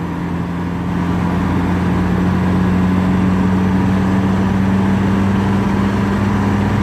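A 1980 model car's engine runs steadily at idle, a loud continuous low drone with a strong hum that rises slightly after the first second and then holds even throughout.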